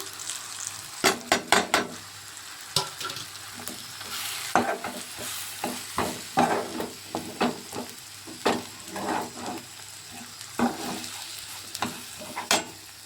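Coriander powder being stirred into hot frying oil in a pan: repeated sharp scraping and clacking spoon strokes over a constant close sizzle, irregular in rhythm, with no voices.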